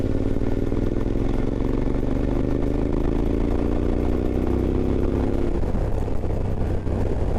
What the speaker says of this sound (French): Alors là on sent que le moteur il hoquette dans tous les sens